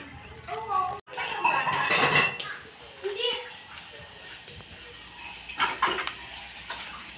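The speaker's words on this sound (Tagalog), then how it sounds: "Nagliligpit ka, Kamal?" Dishes, a pot and cutlery clatter as they are cleared from a table, with close knocks and scrapes over running water while people talk nearby.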